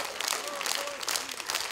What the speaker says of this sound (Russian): каждый ее выход на сцену встречали бурными аплодисментами